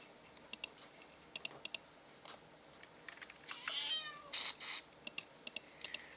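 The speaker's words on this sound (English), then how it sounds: "What you want, streaming cat?" A pet cat meows in a short, rising-and-falling run of cries amid sparse computer keyboard and mouse clicks, close and fairly clear.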